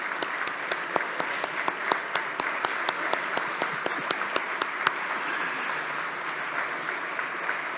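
Sustained audience applause at a conference closing ceremony, dense with sharp individual claps, steady and lively for about five seconds before thinning out into a softer wash of clapping.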